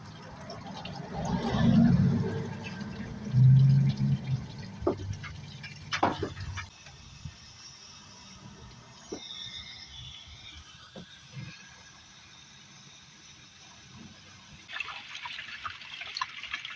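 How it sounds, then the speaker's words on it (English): Water from a hose runs through the radiator and reservoir of a 2003 GMC Sonoma / Chevy S10 during a radiator flush, gurgling and splashing loudly at first, then settling into quieter trickles and drips with a few sharp clicks. "right now I'm just running the water, running my hose through my radiator, through over here, through my reservoir right here"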